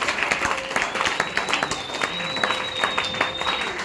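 A church congregation at a morning sermon applauds, dense steady clapping with whistles and crowd noise, loud and close throughout.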